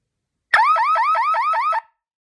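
CH-55C siren blasting a rapid series of rising whoop tones, six or so quick sweeps in a loud, close burst lasting just over a second.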